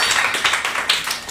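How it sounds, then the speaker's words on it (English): Brief burst of clapping from a temple congregation at a Sunday feast gathering, several hands patting in quick uneven beats, fairly close and moderately loud, lasting just over a second. "Give yourselves a round of applause."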